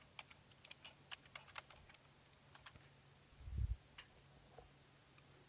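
Someone types on a computer keyboard, a quick burst of light clicking keystrokes that thins to scattered taps, with a soft low thump near the end, quiet and close in a still room with no talk.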